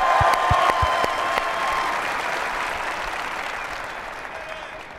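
A crowd at a Phoenix Suns fan event breaks into steady applause and cheering for James Jones, loud at first and then slowly tapering off, with a few sharp claps standing out at the start.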